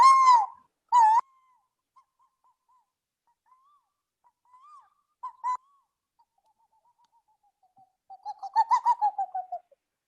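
A live storyteller's voice imitates birdsong, with a few short whistled calls, scattered soft notes, and a trilling run of warbles near the end against silence.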